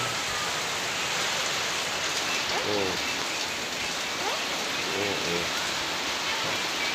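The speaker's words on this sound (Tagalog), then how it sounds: "Ulan na." Steady rain falls continuously on surfaces, a dense, even hiss that stays loud from start to finish. Brief, faint voices surface now and then beneath the downpour.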